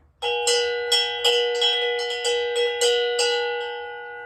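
A chime used as a found-sound instrument rings out in a quick series of about ten bright, sustained strikes, each tone overlapping the last, close and fairly loud with no talking.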